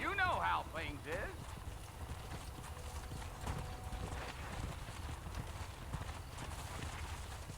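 A horse gallops in the video game Red Dead Redemption, its hooves clip-clopping in a quick steady rhythm throughout, with a brief whinny at the start and someone talking over it.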